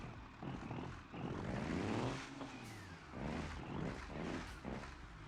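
Chevy C10 truck with a Cummins engine in BeamNG Drive, revving in a deep throaty roar that swells and drops in repeated pulls, loud and close with no talk.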